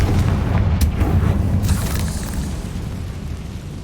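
The Confringo blasting spell explodes in the video game Hogwarts Legacy: a loud, deep boom bursting at once, then rumbling and slowly fading over a few seconds, no talking.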